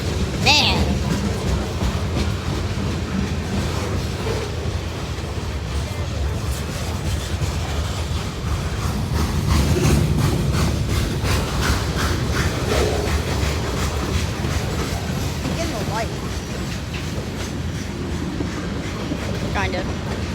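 A CSX freight train hauling a long string of tank cars rolls past near Riverdale, with a steady rumble and clickety-clack of wheels, heard from nearby under excited chatter.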